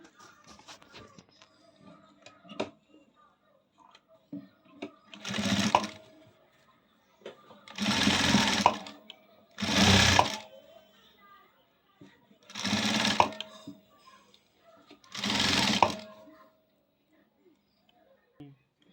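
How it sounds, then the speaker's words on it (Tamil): A sewing machine stitches lace onto the edge of a blouse in five or six separate bursts of whirring, each a second or two long, near and clear, with quiet handling noises and occasional soft talk between runs. "இந்த பிசுறு தெரியாத இருக்க நம்ம லேஸ் வச்சு அடிச்சிடலாங்க"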